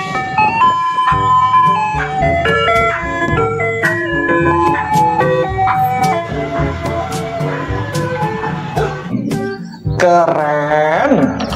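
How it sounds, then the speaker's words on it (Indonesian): A toy ice cream truck plays its bright electronic jingle, a loud chiming melody of repeated notes with a brief pause near the end before the tune resumes. "Yang ini ada mobil es krim."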